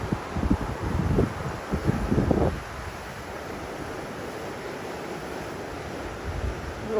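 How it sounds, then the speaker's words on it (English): Gusty wind blusters across a mountain section of the Appalachian Trail, roaring hard against the microphone in the first seconds before easing into a steadier, softer rush. "A little windy."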